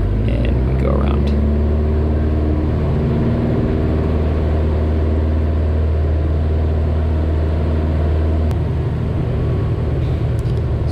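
A Luscombe tailwheel airplane's engine drones loud and steady in the cockpit during a go-around after a bounced landing, its pitch stepping up partway through as power changes, with occasional brief clicks.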